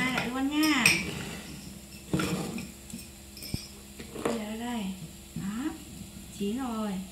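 Plates and dishes handled in a home kitchen while a mother cooks green rice rolls for her children: scattered clinks and knocks of crockery and cutlery under frequent talking.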